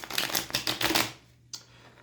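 A quick riffle of tarot cards being shuffled, a burst of rapid flicking that stops abruptly, followed by one soft tap.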